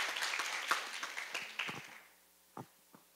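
Scattered audience clapping at a sports-law lecture at a Brazilian university, a short burst of claps that thins out and fades within two seconds, followed by a couple of isolated claps.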